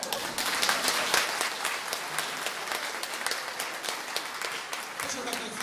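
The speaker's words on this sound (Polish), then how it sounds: "Tu otrzymuje pan rzeźliste brawa." Enthusiastic applause from a theatre audience fills the room, a dense continuous patter of many hands clapping at steady loudness throughout.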